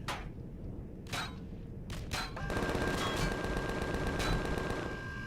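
Gunfire in the space game Empyrion: Galactic Survival, shots punching through walls aboard a freighter, a few sharp bursts early then a denser, sustained stretch of firing with a steady tone underneath.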